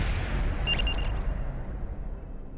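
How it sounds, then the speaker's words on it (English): A rocket explodes after a decoupler failure and improper detonation rigging in Kerbal Space Program, a muffled low boom with a brief crackle that rumbles and slowly fades away, with no voices. "Improper detonation rigging has caused an explosion"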